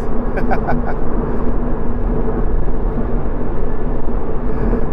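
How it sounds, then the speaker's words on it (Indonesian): Steady, loud road and wind roar from inside a 2023 Subaru BRZ at speed, a constant broadband rush with a faint hum underneath. "Tapi road noise-nya luar biasa, makin kenceng makin gerisik guys."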